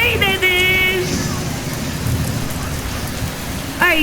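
A rain and thunderstorm sound effect plays at a children's annual day school play as a loud, continuous rainy hiss with low rumbling, with singing voices briefly heard at the start and end.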